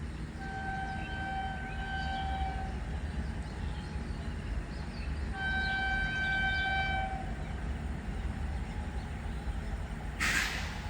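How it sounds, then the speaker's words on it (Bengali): Howrah–New Jalpaiguri Shatabdi Express hauled by a WAP7 electric locomotive approaching, two long horn blasts over a steady rumble of the rolling train, with a sharp burst near the end. "সামনে এসে গেছে ট্রেন নাম্বার 12041 হাওড়া থেকে নিউ জলপাইগুড়ি শতাব্দী এক্সপ্রেস"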